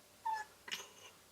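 A house cat on a windowsill calling at birds outside, two short, fairly faint chirping meows close by in a quiet room.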